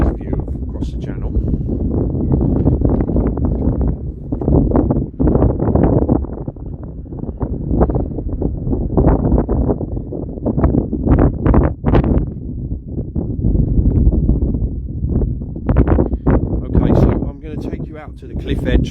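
Strong wind on a clifftop above the English Channel buffets the microphone in heavy, rumbling gusts that rise and fall throughout, with a voice occasionally breaking through the roar.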